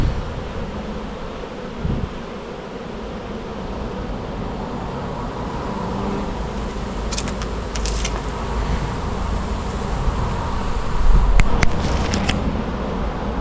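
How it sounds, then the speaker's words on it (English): A honeybee colony is being removed from a bin, and a dense, steady buzz fills the whole stretch with a few sharper passes from bees flying close. Faint traffic murmurs in the background. "They are a lovely colony of bees."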